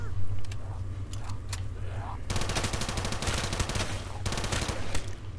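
An upgraded gun in Minecraft fires at zombies in rapid automatic bursts, with dense rattling gunfire in two long stretches over a low game rumble and scattered single shots.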